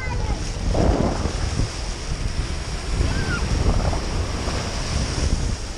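Ocean waves washing up onto a beach, a continuous surf rush with wind buffeting the microphone and a louder swell near the start.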